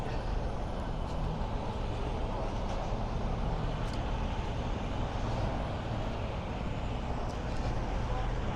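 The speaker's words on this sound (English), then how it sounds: "It's a very busy roadway through Greenpoint. Extremely busy, as you could tell." Steady traffic on busy McGinnis Boulevard in Greenpoint, Brooklyn, a continuous low roar of cars and trucks rolling past, with occasional brief higher-pitched sounds above the rumble.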